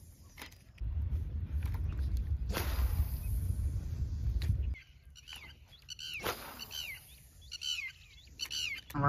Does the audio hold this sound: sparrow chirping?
yes